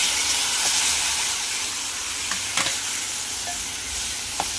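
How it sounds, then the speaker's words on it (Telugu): Tomatoes with turmeric fry in a pan for a bitter gourd curry, giving a loud, continuous close-up sizzle with a few light scrapes as they are stirred. "పసుపు వేసుకున్న తర్వాత నెక్స్ట్ టమాటాలు వేసాను ఫ్రెండ్స్."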